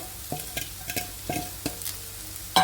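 Fried onions being stirred into a sizzling pan for a potato stir-fry, with a few distinct scraping strokes of a spoon over a soft frying hiss, close up and without talk.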